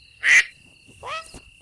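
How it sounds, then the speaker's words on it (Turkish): Two short nasal quacks, one at the start and one a moment later, near and clear against silence. "De bu ördek."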